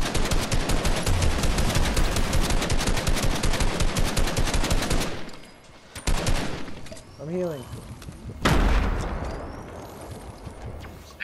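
Rapid automatic gunfire in the video game Fortnite, a dense sustained burst of shots for about five seconds, then scattered shots and a rising whistle-like effect before another loud burst near the end.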